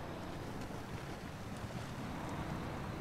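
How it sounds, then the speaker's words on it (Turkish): A truck engine runs steadily in the SnowRunner off-road driving game, a constant low rumbling drone mixed with broadband wind-like noise, with no voices. "Motor sesi güzel. Rahatsız etmiyor insanı."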